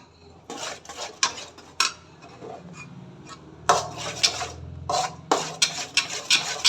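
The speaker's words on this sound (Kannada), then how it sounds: "ಇದು ಕಲರ್ ಚೇಂಜ್ ಆಗೋವರೆಗೂ ಇದನ್ನು ಮಿಕ್ಸ್ ಮಾಡಿಕೊಂಡೇ ನಿಂತ್ಕೋಬೇಕು" Banana halwa being stirred in a pan, a spoon scraping and knocking against the metal in irregular bursts of rasping strokes, close and fairly loud.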